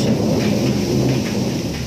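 Outdoor rain during light drizzle at a graveyard, a dense, steady hiss with a low rumbling undertone, fairly loud and continuous, with no voices.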